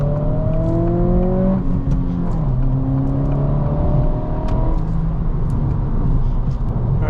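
Steady engine drone and road noise from a 2024 Acura Integra A-Spec with a six-speed manual while driving, a constant whirring hum with slowly shifting tones and no break throughout.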